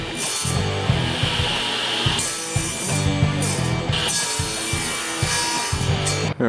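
Steady, rasping saw noise cutting through wood, nearly continuous with brief pauses between strokes, over a soft musical background.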